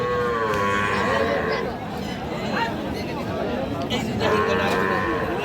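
Sahiwal bull calves moo repeatedly at a livestock farm market, loud, drawn-out calls rising over a steady background of crowd chatter and nearby people talking.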